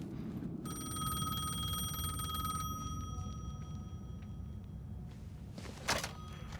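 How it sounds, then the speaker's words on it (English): A payphone at Caldera St. Station in Alan Wake 2 gives one bright, trilling electronic ring lasting about two seconds. Quiet ambience follows, with a brief clatter near the end. "The payphone was ringing."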